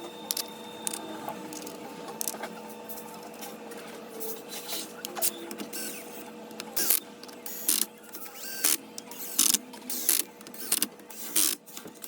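Ratchet clicking in short bursts while bolts are driven into the back cover of a Toyota RAV4 transmission during a rebuild, with metallic mechanical ticks growing louder and more distinct toward the end, close by with no talking.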